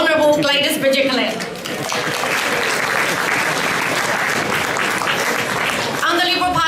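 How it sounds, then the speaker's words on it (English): Dense, steady applause fills a hall at the launch gala of the Liberal Party Chinese Youth Council, with a voice speaking just before the clapping swells and again as it carries on. "So applause to women in leadership as role models to our Honourable Gladys Berejiklian."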